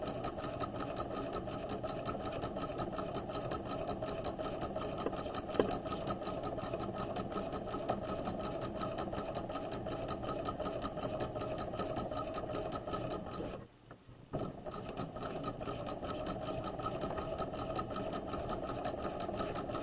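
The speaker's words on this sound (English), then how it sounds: "As we sew around the outer curve" A sewing machine stitches around the outer curve of a flat collar, a steady close mechanical whir running continuously, broken by one brief stop before resuming.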